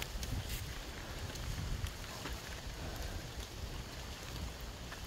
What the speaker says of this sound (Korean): 비가 오는 숲은 느낌이 다르군